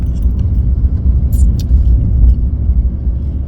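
A car driving along on a rainy day, with a steady low engine and road rumble throughout, a faint jingle of keys and a couple of brief higher sounds over the drone.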